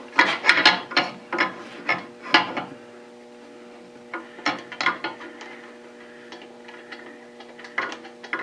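A ratchet wrench tightens bolts on a surface grinder during reassembly, giving loud, close bursts of rapid metallic clicking, a pause, then more clicking strokes that trail off into softer ticks.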